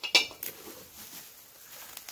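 Non-stick cooking pot lids from a new six-piece set are handled, giving a couple of sharp, bright clinks close by, followed by softer faint rattles and handling noise.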